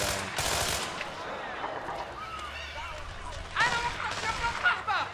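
Gunfire in Splinter Cell Blacklist at a militia-filled plaza near a safe house: bursts of rapid automatic shots, a dense volley at the start and another near the end, with game voices and ambience underneath.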